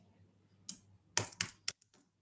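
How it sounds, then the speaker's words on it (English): A few scattered keyboard clicks and taps, close and fairly quiet, arriving in short irregular bursts with pauses between them. "I'll just type in a few chats."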